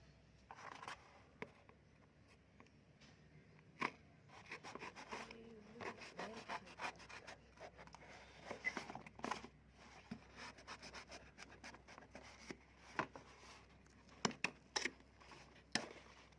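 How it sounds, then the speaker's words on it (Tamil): Cardboard Amazon shipping box being opened for a microphone unboxing, with scattered scraping, rubbing and tearing sounds and sharp close clicks, moderately quiet and with no speech. "ஃபர்ஸ்ட் இந்த அமேசான் பாக்ஸ் ஓப்பன் பண்ணிடலாம்."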